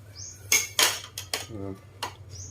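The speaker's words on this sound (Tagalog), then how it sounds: "Oh, ganito, paghalo niyan, pakbet." A ladle clinks and scrapes against a pot while Ilocano pakbet vegetables are stirred, giving a few sharp metallic knocks with softer shuffling between them. The sounds are close and moderately loud.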